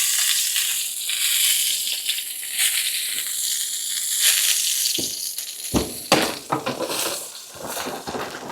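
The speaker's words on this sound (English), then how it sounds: "It's still sizzling like crazy." Steady crackling sizzle of porchetta roast pork in a hot pan just out of the oven, close and continuous, with a few sharper pops and clicks near the end.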